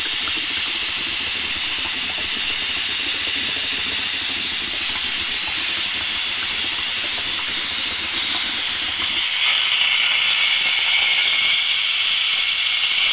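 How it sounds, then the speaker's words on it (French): A garage air compressor drives a pneumatic oil pump while rear-axle oil is drained from a BMW, producing a steady loud hiss and mechanical rumble throughout; the low drone drops away near the end, leaving the bright hiss. "quand je vais appuyer sur la gâchette, on va plus s'entendre parce que ça marche par air comprimé. Le compresseur va se déclencher"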